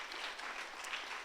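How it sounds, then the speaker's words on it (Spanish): A church congregation applauds in a steady, diffuse patter of many hands, moderately distant and fairly soft, lasting only a moment. "Alguien le aplaude a Dios que lo esté entendiendo en esta tarde"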